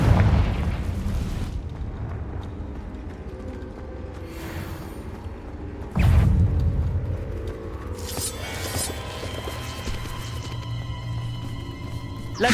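A Confringo blasting curse explodes in a video game, heard as a heavy boom partway through with rumbling aftermath, among other impacts and low game ambience.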